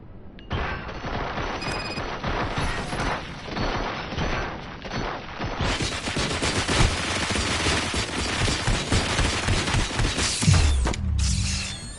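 Gunfire and mechanical clatter in the video game Robocop Rogue City, a dense continuous barrage of shots layered over game noise and music, loud and sustained with a heavy burst near the end.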